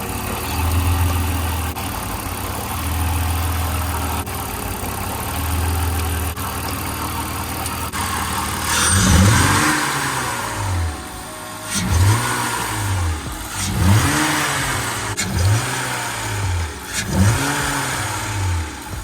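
BMW E46 engine idling steadily, then revved repeatedly in a series of sharp rising and falling blips, close and loud, with no talking.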